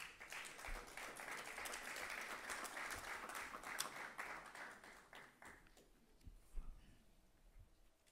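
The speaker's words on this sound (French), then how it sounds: "Sous vos acclamations, s'il vous plaît." Audience applause for a speaker at a conference on investment security in Côte d'Ivoire: loud, sustained clapping from many hands that thins out and fades toward the end, leaving a few scattered claps.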